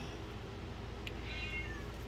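A house cat meows insistently after being told off for scratching the wall, one drawn-out complaining call standing alone against a steady low hum, fairly close.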